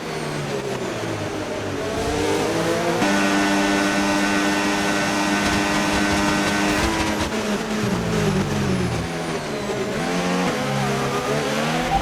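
Loud, continuous F1 race car engine from the F1 25 video game, revving steadily with shifting pitch as the car lifts off the throttle and changes gear approaching a corner, with no talk over it.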